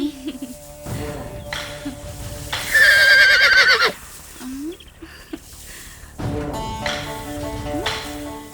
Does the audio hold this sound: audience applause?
no